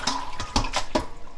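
Spring cabbage greens are swished and rinsed in water, giving splashy bursts and sloshing close by in a short, uneven rhythm.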